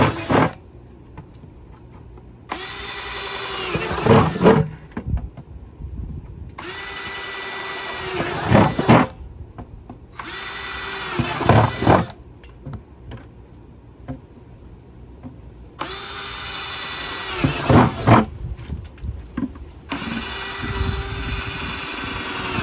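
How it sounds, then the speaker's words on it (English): A power drill whirs in repeated bursts of several seconds each, drilling holes in a plastic 5-gallon bucket, separated by short pauses, close up with some clattering between. "I'm going to drill at least 6 holes in the bottom"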